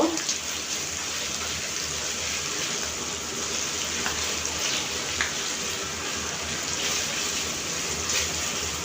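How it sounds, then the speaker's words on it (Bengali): Green peas frying in a pan with a handful of cashews and raisins give off a steady, even sizzle that hisses without a break throughout, with no talking over it. "এখন দিয়ে দিচ্ছি কাজু বাদাম আট দশটার মতো আর বারো থেকে পনেরোটার মতো কিশমিশ দিয়ে আমি এটাকে আরও কিছুক্ষণ ভেজে নিব"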